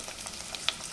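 Onions and vegetables fry for sambar in a pan, a close, even sizzle with a couple of sharp little pops over one second, no talking.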